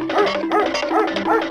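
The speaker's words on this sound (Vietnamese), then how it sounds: "Ô, hình như tớ nghe thấy tiếng của con chó Mích cậu ơi." A cartoon dog barks close and clearly, four yappy barks in a regular rhythm over a background hum.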